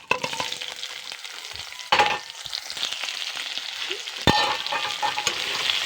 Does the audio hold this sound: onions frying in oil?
yes